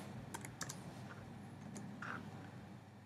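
Soft typing on a computer keyboard while entering guest email addresses into a calendar invite, with scattered quiet key clicks over steady room hum.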